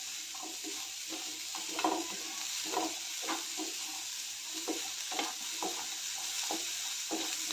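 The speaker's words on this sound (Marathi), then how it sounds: "जास्त वेळ भाजून नाही, थोडा 1-2 मिनटं भाजून घ्यायचं आहे." Chopped ridge gourd is dry-roasted in a pan and stirred, giving soft repeated scraping and stirring strokes over a faint, steady sizzle in a quiet home kitchen.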